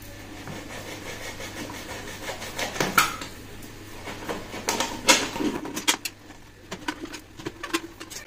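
Plastic bottle being cut by hand at close range, giving irregular crackling and clattering bursts that come and go over a faint background hum.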